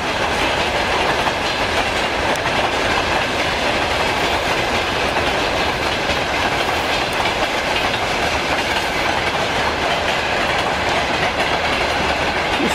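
A long freight train of 65 wagons rolls steadily past nearby, wheels clattering continuously over the rails with a dense, unbroken rumble.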